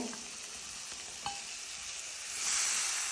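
Bitter gourd pickle in a pan gives a steady, close sizzle while it is stirred, with a brief scrape partway through and the frying hiss growing louder toward the end.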